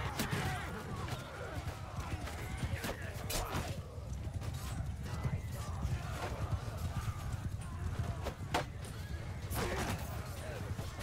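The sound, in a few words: cavalry horses charging, from video game Mount & Blade II: Bannerlord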